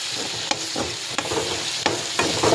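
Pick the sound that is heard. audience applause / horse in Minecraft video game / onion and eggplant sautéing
onion and eggplant sautéing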